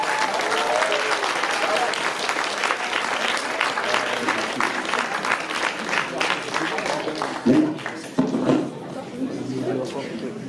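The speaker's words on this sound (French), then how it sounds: "Sabine Fichera, que je demande d'applaudir vraiment fort." An audience at a spring poetry event in Vence applauds steadily with dense clapping and some crowd chatter, a few louder bursts near the end.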